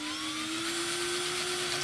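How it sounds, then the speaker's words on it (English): A steady high-pitched whine of a small drill boring into plastic, continuous and close, with no talking. "So, drill a hole."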